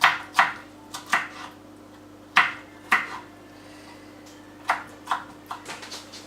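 Knife chopping food into small pieces on a cutting board; sharp close knocks come in uneven pairs and short bursts with gaps between, loud and clear, with no voice.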